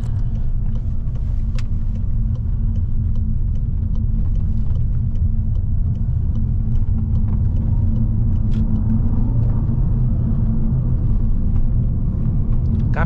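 Volkswagen Passat heard from inside while driving, a steady low engine and road rumble that holds constant throughout with faint ticks and rattles above, no clear voices.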